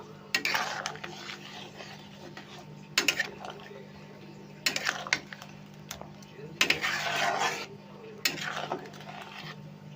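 Ground coconut paste being stirred into potato curry for a Bengali vegetarian aloo dum: several separate bursts of scraping and clattering in the pan, with quiet gaps and a low steady hum between them.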